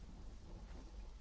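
A low, rolling rumble of thunder blends with steady rainfall in the video game Conan Exiles, quiet and brief, with no voices.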